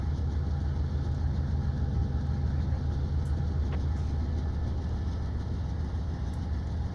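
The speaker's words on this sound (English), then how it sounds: "Train just passed, and here we are." A train engine idles steadily at Cajon Pass, a continuous low rumble that runs without a break the whole time, loud and close, with no voices over it.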